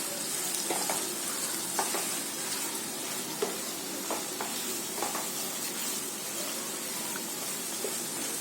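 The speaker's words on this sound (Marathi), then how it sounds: "कांद्याला चांगला कलर येईपर्यंत कांद्याला फ्राय करायचे" Onions fry in a pan for village-style Konkani biryani, a steady soft sizzle with regular scraping strokes of a spoon stirring them at intervals.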